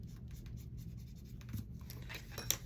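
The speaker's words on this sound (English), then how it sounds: "Let's erase this." Close, faint scratchy rubbing of a pencil eraser on paper pages for a postcard notebook, with soft intermittent strokes over a quiet room background.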